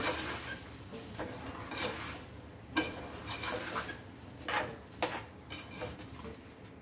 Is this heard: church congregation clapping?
no